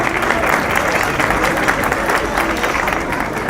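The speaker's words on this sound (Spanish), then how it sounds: "Fuerte el aplauso." Loud, dense applause from an audience at a public transparency fair in Mexico City, steady and sustained with a broad hiss of many hands throughout.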